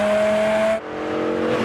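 A BMW car drives along a wet Isle of Man road in the rain, a loud steady engine tone with hissing tyres that shifts gear midway and builds again, with no talk.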